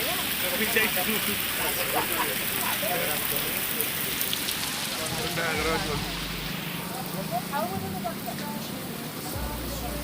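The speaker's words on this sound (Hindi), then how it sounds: "प्रबल वर्षा भाई प्रबल वर्षा" Heavy rain pours steadily on a wet street near Marine Drive in Odisha, a dense broadband hiss of drops on hard surfaces throughout, with low rumbles and voices talking over it.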